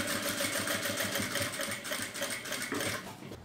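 A sewing machine stitches a fabric seam closed on a small patchwork cup coaster, a close, rapid rhythmic clatter of the needle running steadily for a few seconds.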